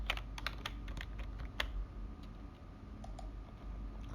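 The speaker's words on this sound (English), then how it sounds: "you can type the command lengthen" A computer keyboard is typed on at close range, with a quick run of light, crisp key clicks entering a drafting-software command, then sparser taps in a quiet room.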